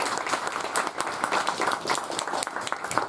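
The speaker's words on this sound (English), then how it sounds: "Give them another big round of applause." Audience applause for a group of conference speakers after a lightning-talk session, steady dense clapping filling the room from start to finish with no voices over it.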